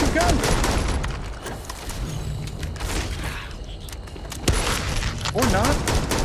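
Gunfire in the video game Starfield, bursts of shots and booms with a sharp blast near the middle, mixed with game sounds and talk.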